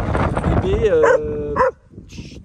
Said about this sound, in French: Là il aboie.